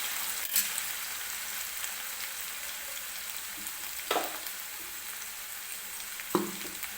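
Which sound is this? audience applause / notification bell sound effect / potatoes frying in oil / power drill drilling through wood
potatoes frying in oil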